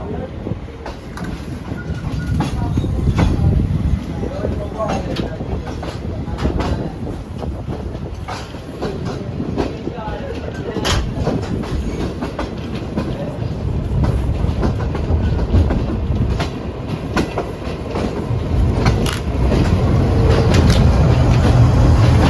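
The Shalimar Express, a Pakistani passenger train, rumbles steadily along the rails near Khanewal Junction on the way to Lahore, with continuous rolling noise, rhythmic clatter and occasional sharp knocks throughout.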